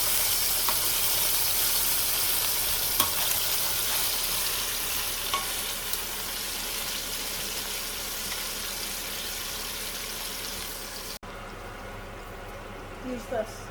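Beijing beef frying in a hot pan, a steady broadband sizzle running without pause for about eleven seconds before cutting off abruptly to near quiet, with faint scattered clicks afterward.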